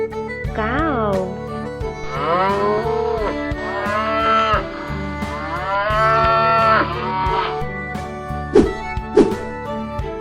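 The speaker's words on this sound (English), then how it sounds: "Cow." A cow moos in a long, drawn-out, groaning call for several seconds, loud and close, with a short thud and a few knocks around it, in an animated animal-naming piece for toddlers.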